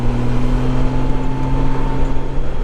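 A 2014 Honda Goldwing motorcycle engine while riding, a steady, even hum with a smooth low tone, loud and close, with no talk.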